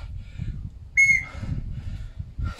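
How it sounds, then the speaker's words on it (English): A whistle sounds during a non-stop functional personal training workout: one short, sharp, high blast stands out against quiet low background rumble. "forgot to blow the whistle."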